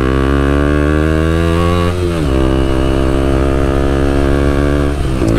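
A KTM Duke 125cc engine drones close and loud at a steady, buzzy pitch, dipping briefly near the middle before holding steady again.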